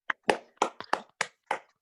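A few sparse hand claps at a city full council meeting, about seven distinct close claps in an uneven rhythm against silence, more like one or two people clapping over a remote link than a room-wide round.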